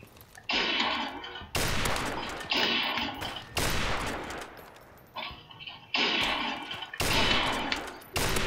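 Bursts of automatic gunfire in Call of Duty: Modern Warfare Remastered come in repeated loud, sharp volleys of roughly a second each, separated by short gaps.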